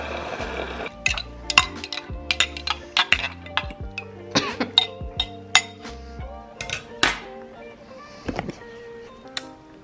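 A butter knife stirring a green apple pre-workout drink, rapid ringing clinks against the glass in an irregular rhythm, close and bright, with a few louder taps and a short throat clear.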